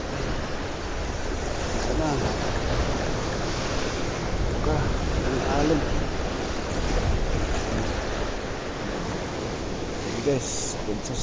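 Ocean waves surge and wash continuously around a small fishing boat, a broad roaring hiss mixed with heavy wind buffeting the microphone, and occasional voices faintly underneath.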